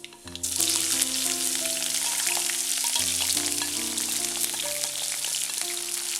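Loud, continuous crackling sizzle of ginger, garlic, green chillies and mustard seeds frying in hot oil, with a few tonal clinks from the pan.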